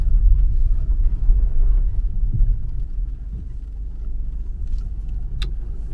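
A car drives along a road toward a cemetery, a steady low engine and tyre rumble heard from inside, fairly loud and continuous with a brief faint knock near the end, no talk.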